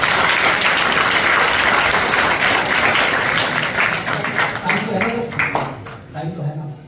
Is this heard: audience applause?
yes